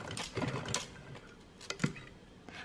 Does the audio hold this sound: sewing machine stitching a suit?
yes